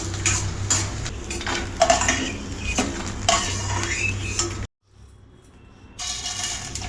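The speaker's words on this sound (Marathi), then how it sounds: "डिंक चांगला तळून घ्यायचा, असं सर्व तळून घेते आणि तुम्हाला दाखवते" Edible gum (dink) frying in a pan of hot oil while being stirred: close, clattering spoon scrapes against metal over a steady sizzle, broken by a brief pause before stirring resumes.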